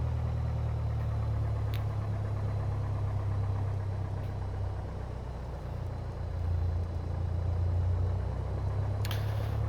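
An aircraft engine idling as the plane taxis in Microsoft Flight Simulator, a steady low drone and hum lasting throughout with a few faint clicks, no talking.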